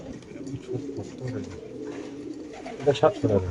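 Racing pigeons, including a silver-necked male, coo softly at a pigeon market, low burbling calls close by, swelling near the end, mixed with the murmur of people talking.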